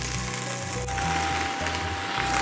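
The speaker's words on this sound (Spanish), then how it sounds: "Ahora voy a colocar la verdura para que se vaya sofriendo." Chopped vegetables go into a pot of hot, generous olive oil to gently fry for a homemade tomato sauce, giving a steady close hiss and crackle without pause.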